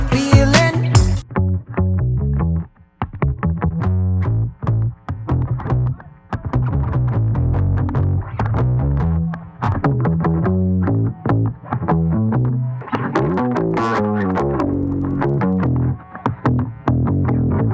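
Electric guitar through a Safari Pedals Cobra Fuzz pedal, loud and saturated: thick fuzzy chords and stabbing riffs with rich harmonic overtones, choppy rhythmic bursts and brief gaps, no talking.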